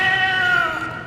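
A cat lets out a loud, drawn-out wail with strong tonal harmonics in a cartoon scene, a single sustained yowl lasting about a second and heard close, with no talking over it.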